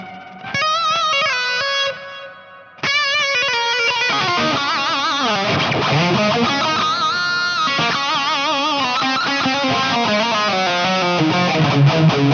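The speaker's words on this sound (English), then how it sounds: "Now I can go ahead and add a little bit of a delay over here so that I get that perfect lush lead tone" Lead electric guitar played through a NAM amp-modeling player with a delay effect added, a lush sustained tone of melodic notes and bends with trailing repeats, loud and continuous without any talk.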